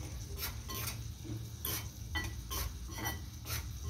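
Flour roasting in a pan over a low flame gives a faint, soft sizzle, with rhythmic scraping strokes of a stirring spoon about twice a second, and no voices.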